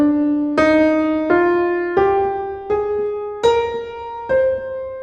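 A C natural minor scale rises note by note on a pitched instrument, six clear separate tones in a steady, unhurried rhythm, each struck and left to ring and fade, close and alone with no talking.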